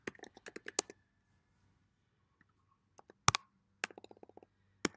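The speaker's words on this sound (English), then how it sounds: "Typing some notes to share with this video." Bursts of computer keyboard typing, quick clusters of close, crisp key clicks separated by short pauses of silence, alone and fairly quiet.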